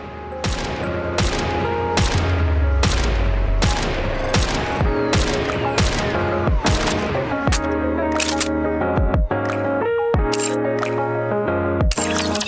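Character gunfire in the game NIKKE, with sharp, evenly spaced shots in a steady rhythm over a continuous musical backing. The shots are loud and up front throughout.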